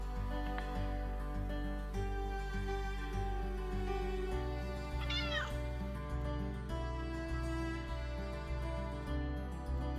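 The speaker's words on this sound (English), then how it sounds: "I'll put a picture in of the kitty whose voice you're hearing right now" A cat meows once, a short plaintive cry, heard over steady background music.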